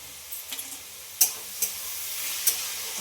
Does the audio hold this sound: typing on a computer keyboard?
no